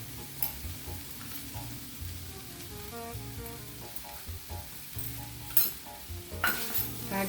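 Unripe green tomatoes fry in a pan for chutney, giving a continuous soft sizzle broken by stirring scrapes and occasional clinks of a utensil against the cookware.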